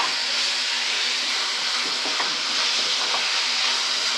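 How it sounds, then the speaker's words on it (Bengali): Cumin and turmeric frying in a pan while being stirred, a steady close sizzle with light scraping strokes throughout, no voices. "আবারও মশলাটাকে ভালো করে নেড়ে চেড়ে আমি এই মশলাগুলো দিয়ে ভালো করে কষিয়ে নেব।"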